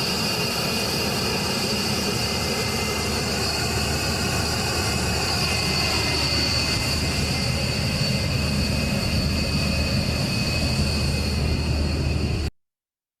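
B-1 bomber jet flying past at full power, a loud sustained roar with rumbling low end and steady whine that fills the whole stretch before cutting off abruptly at the end.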